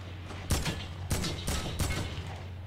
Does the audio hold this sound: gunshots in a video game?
yes